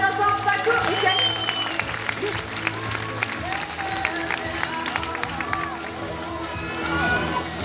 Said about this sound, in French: Je pense qu'on peut applaudir bien fort Paco et Camille.